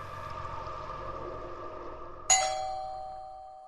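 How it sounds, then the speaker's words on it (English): A doorbell chime sounds once, sudden and fairly loud after a stretch of low background hum, its bright tone ringing and decaying slowly. "Who has the audacity to ring the doorbell in this day and age?"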